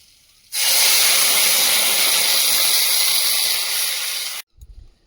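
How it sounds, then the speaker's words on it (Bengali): Boiling hot water hits fried taro in a hot pan on a clay stove, setting off a sudden, loud, sustained hiss that lasts about four seconds and then cuts off, followed by faint clatter. "কচুটা ভালো করে ভেজে নিয়েছি এবার ফুটন্ত গরম জল দিয়ে দেবো"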